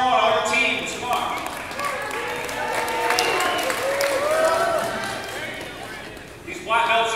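Crowd at a martial arts match, Gene Click vs Brandon Bledsoe, cheering and applauding steadily at close range throughout, with shouting voices mixed in and a louder burst near the end.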